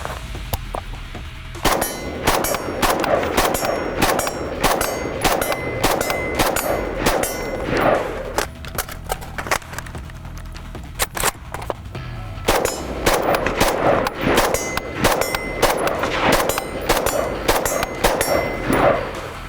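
Rapid, loud Steyr AUG rifle shots ring out at a shooting range, dense strings of sharp cracks and metallic clangs continuing almost nonstop, with a couple of brief pauses between bursts.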